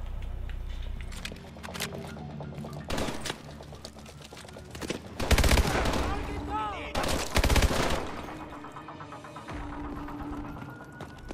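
Gunfire from the Call of Duty: Advanced Warfare video game: scattered bursts of shots that swell into two loud, dense volleys midway, over a busy game soundscape.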